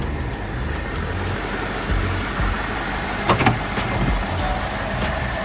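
A 2008 BMW 750Li engine idles steadily with a low, constant rumble, heard up close under the open hood, with a couple of faint clicks partway through.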